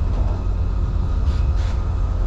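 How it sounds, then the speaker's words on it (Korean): Passenger train riding into central Paris, a steady low rumble and rattle heard from inside the carriage with no voices. "우리는 지금 기차를 타고 파리 시내로 들어가고 있습니다."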